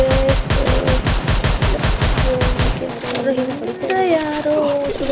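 Rapid automatic gunfire from the battle royale video game Garena Free Fire rattles in dense, fast bursts. It then gives way to scattered shots and game effects, with voices talking over it.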